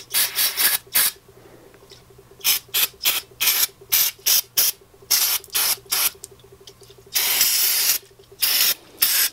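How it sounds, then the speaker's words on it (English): Repeated bursts of aerosol carb cleaner sprayed into a Yamaha Warrior quad carburetor, short hissing blasts in an irregular rhythm with a longer sustained spray near the end, close and loud. "We're gonna spray some carb cleaner in there"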